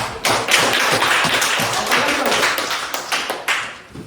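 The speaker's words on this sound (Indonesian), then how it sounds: "tepuk tangan dulu untuk Joyful mana?" A school class in a coding lesson claps for a classmate, a loud burst of irregular, close hand claps with distinct taps and thuds, tapering off near the end.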